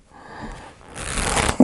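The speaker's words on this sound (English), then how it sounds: "I shuffle the cards before every reading offline." Tarot cards are shuffled and cut by hand, a soft riffling swell that builds into a dense, crisp flutter and ends with a sharp tap, close and without talk.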